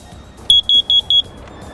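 A smoke alarm test: four short, shrill electronic beeps in quick even succession, loud and close, over a faint background hum.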